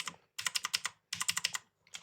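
A compact 60% mechanical keyboard clatters in two quick flurries of close, crisp keystrokes separated by a brief pause, with a few final taps at the end.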